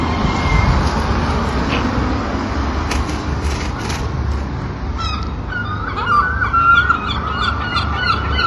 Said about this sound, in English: Goddamn seagulls.